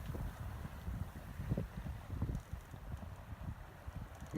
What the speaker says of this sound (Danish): Kun lyden af bølgerne.